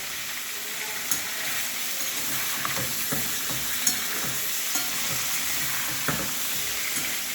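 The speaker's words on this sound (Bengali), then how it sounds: "এই যে পটলগুলিকে আমি এবারে ভেজে নিচ্ছি বন্ধুরা, দেখো একদম লাল করে ভেজে নিব।" Pointed gourd (potol) pieces frying in oil in a pan, a steady close sizzle and hiss with occasional sharp pops and crackles, no talking.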